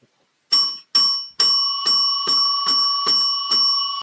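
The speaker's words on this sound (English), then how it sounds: "Bell." A bright bell rings eight times in a steady rhythm, each strike clear and ringing with a shimmering metallic tone, close and loud with no voices.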